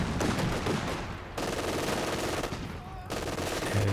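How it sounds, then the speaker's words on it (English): An MG42 machine gun fires in Company of Heroes 2 during a 2v2 match: dense, continuous bursts of battle noise with gunfire clatter throughout, loud and steady with brief dips between volleys. "Nice attempt from Nice though to get aggressive with the MG42"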